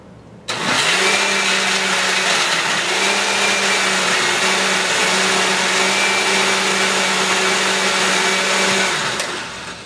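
A blender set to chop for a raw vegan lasagna starts abruptly and runs loud and steady for about nine seconds, its motor pitch dipping slightly a few times before it winds down.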